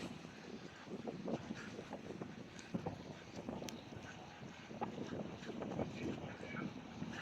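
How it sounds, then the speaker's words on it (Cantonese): A naval radar ship passes through Victoria Harbour toward the Stonecutters Island base under a Typhoon Signal No. 1, a faint, distant low rumble heavily buffeted by gusting wind on the microphone. "呢架應該係雷達船嚟嘅"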